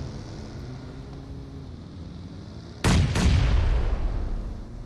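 Bombs explode in a video game: two sharp, loud booms close together burst over a steady low rumble of background noise, then decay into a lingering roar.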